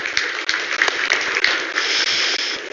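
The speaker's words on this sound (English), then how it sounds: "Applause for Bruno." An audience at a BRICS summit panel claps steadily for a panelist, a dense and fairly loud wash of applause that holds for the whole stretch without speech.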